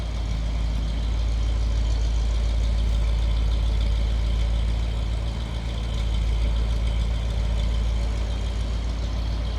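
A 1954 Packard Caribbean Custom Convertible engine idling steadily, a deep, even low rumble held at constant loudness from nearby with no talking over it.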